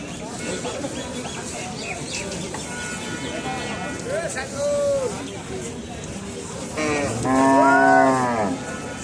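Cattle mooing at a busy cattle market with Indian and Sahiwal cows, a couple of loud nearby moos rising above constant crowd babble and talk.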